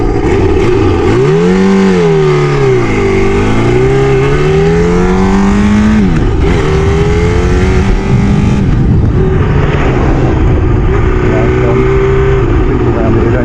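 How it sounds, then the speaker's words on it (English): A Kawasaki ZL600 Eliminator motorcycle engine runs close and loud just after a cold start, its revs swinging up and down in smooth sweeps before settling into a steadier idle. "Right, it's a cold start."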